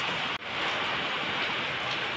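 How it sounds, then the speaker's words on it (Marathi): Heavy rain pours down steadily in a dense, unbroken hiss that stays loud and even, with only a brief dip near the start. "आमच्या इकडे बघा खूप सारा पाऊस आहे बघा"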